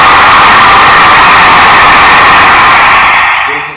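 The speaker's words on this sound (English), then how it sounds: "I need more applause." A studio audience on a comedy pilot breaks into a loud wash of clapping and cheering. The sound holds strong and steady for about three seconds, then quickly fades out.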